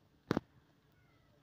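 A mixed-breed cat gives one short meow, fairly close and clear, in an otherwise quiet room with a faint chirp at the very end.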